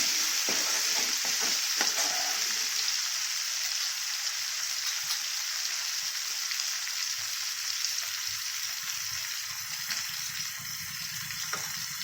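Dal bati masala is sautéed in a pan of hot oil with the gas off, a continuous close sizzle with faint scraping stirs and light crackles that gradually soften, no talking.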